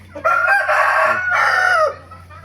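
Roosters crow on a Thai farm among chickens, two long cock-a-doodle-doo calls in quick succession, loud and close, with a steady low hum underneath and no talking.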